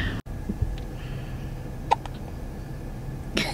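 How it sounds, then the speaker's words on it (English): Someone hiccups: two short, soft hiccups spaced well apart against a quiet indoor background, with no talking. "Someone's got the hiccups."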